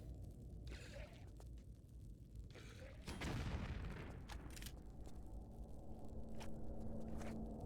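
A single loud blast booms midway through a Tomb Raider tomb scene as mummies are blown up with gunfire. A lingering rumble follows, with a few faint thuds and footsteps before and after.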